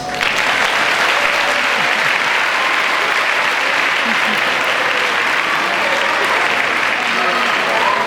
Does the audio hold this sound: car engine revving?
no